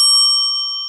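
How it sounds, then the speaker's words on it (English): An angel bell item in a Dragon Quest game rings out once as a bright, clean chime that rings on and slowly fades, with nothing else heard. "I've got an angel bell here."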